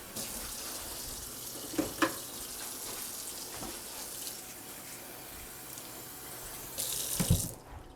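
Warm water runs steadily into a cooking pot in a soft, continuous trickle, swelling briefly louder near the end, with a few light clinks along the way.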